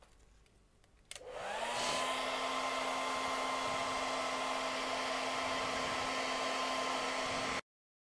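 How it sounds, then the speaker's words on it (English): A hair dryer switches on and blows steadily to dry acrylic paint on an art canvas, a loud continuous whooshing whine with a steady motor hum that runs for several seconds and then cuts off abruptly. "let's zap that with a hairdryer quickly, just to make sure he's dry"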